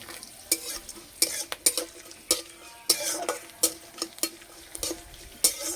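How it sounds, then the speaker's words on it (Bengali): Whole mustard seeds, white sesame, dried red chilli and garlic cloves sizzle in hot oil in a pan while a utensil stirs, making sharp repeated scraping clicks over a soft hiss, close and alone. "এখানে নিয়েছি গোটা সর্ষে, সাদা তিল, শুকনো লঙ্কা, কয়েক কোয়া রসুন তেলের মধ্যে দিয়ে দেব"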